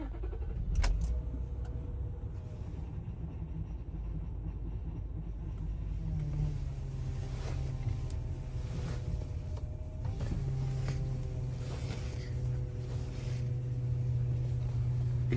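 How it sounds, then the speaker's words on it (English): Worn car power steering pump, still filled properly with fluid, whining and groaning at idle, a steady low drone with a rising whine that swells midway and again near the end, with occasional clicks and rattles. "This power steering pump is just driving me insane. Like, it still works, it just makes bad noises here."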